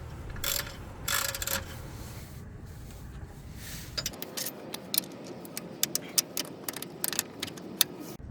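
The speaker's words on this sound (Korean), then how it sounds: "캠버 볼트 구멍에 맞게 이렇게 작기를 이렇게 들어 올려 줍니다." A car jack is pumped to raise a lower control arm in a home garage, giving repeated metallic ratcheting clicks and clanks, spaced and close, after a rustling, clattering start.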